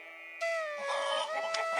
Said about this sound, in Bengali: আমাদের বাড়ির ভেতর থেকে অনেক মোরগ মুরগির ডাক শোনা যাচ্ছে।